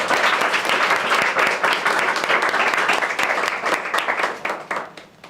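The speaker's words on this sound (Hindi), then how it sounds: "तो जोरदार ताली हरीश राज के लिए।" An audience claps loudly for Harish Raj at a spoken English institute's motivational interview session, a dense sustained ovation that thins out and fades near the end.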